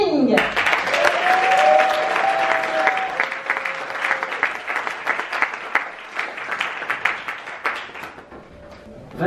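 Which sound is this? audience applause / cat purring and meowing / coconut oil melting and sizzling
audience applause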